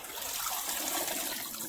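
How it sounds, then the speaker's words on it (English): Water draining from a kitchen sink past a drain stopper while collard greens are washed, a steady close rushing trickle with no break over a brief moment. "The water will drain, but the greens will not go down the drain."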